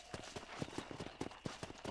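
Horse hooves clip-clopping in Red Dead Redemption, a quiet, steady rhythm of distinct hoof strikes at walking pace, fairly close and with no talk over them.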